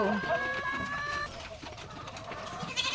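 Around thirty laying hens of an egg breed cluck and chatter while eating commercial feed pellets, with soft scattered calls and background rustling throughout.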